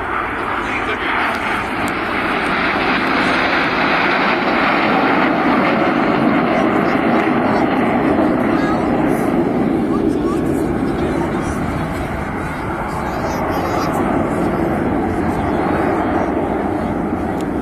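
Red Arrows display jets fly past with a broad, continuous roar that stays loud throughout, swelling and easing slightly as they pass.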